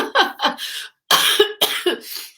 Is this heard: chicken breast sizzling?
no